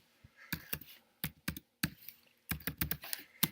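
Bursts of computer keyboard typing, quick clustered keystrokes separated by short pauses, close and fairly quiet.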